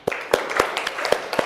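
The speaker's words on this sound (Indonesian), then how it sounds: "Beri tepuk tangan." Students in a junior high mathematics classroom clap in a sparse, uneven rhythm, roughly five or six distinct claps close by over a soft background murmur.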